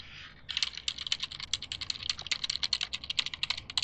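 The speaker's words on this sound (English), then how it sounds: "keyboard presses or mouse clicks" Keys clack in a fast, irregular burst of typing on a computer keyboard, close and fairly quiet, with no voices.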